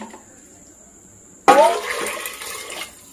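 Measured water is poured all at once into a cooking pot in a home kitchen, a sudden loud gushing splash that runs about a second and a half after a quiet start, then fades.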